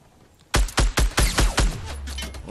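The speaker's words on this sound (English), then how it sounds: "Oh, he's shooting on me." Rapid gunfire in the video game Fortnite: six loud, sharp shots in quick succession, each a close, punchy crack, followed by a lower rumbling tail as the firing stops.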